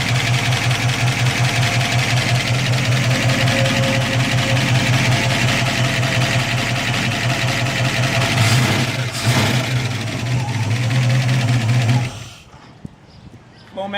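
A 1964 V8 bored 30 over, with a 600 Holley carburetor, solid lifters, Hedman headers and a Flowmaster muffler, idles loud and close with a steady lumpy throb, then cuts off abruptly near the end.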